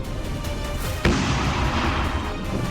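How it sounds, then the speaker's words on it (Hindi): A single deep boom from a 105 mm light field gun, part of a 21-gun salute at the Republic Day parade on Kartavya Path, strikes once midway and leaves a long rumbling echo over steady crowd and outdoor noise. "स्वदेशी 105 मिलीमीटर लाइट फील्ड गन से दी गई 21 तोपों की गूंजदार सलामी के साथ राष्ट्रगान हुआ।"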